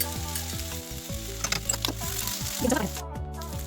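Vegetables and ginger garlic paste fry in a pan, giving a steady sizzle with occasional stirring scrapes and clatter, close and moderate in level, under faint background music.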